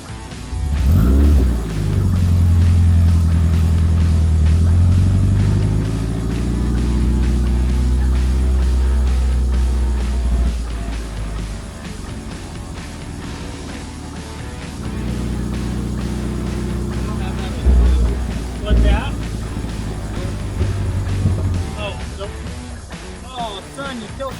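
A Subaru-swapped VW Beetle's engine drones and revs from inside the car, rising and falling through several throttle blips and gear changes, loud and close.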